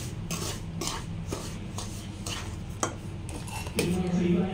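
A spoon stirs powdered sugar into roasted semolina in a metal pan for rava laddu, scraping and clinking in repeated strokes at close range with no talk.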